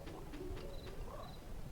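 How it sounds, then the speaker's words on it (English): A baby bird in the Chibi-Robo video game gives soft, repeated dove-like coos, several short calls spread across a steady background of game music. "in order to get up there, we have to get past that baby bird"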